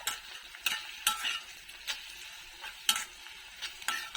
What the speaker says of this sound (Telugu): ఉల్లిపాయలు వేగిన తర్వాత సాల్ట్ కొంచెం పసుపు వేసాము అది కూడా కలుపుకొని